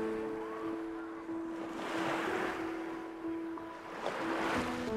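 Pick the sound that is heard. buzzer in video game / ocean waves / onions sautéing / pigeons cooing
ocean waves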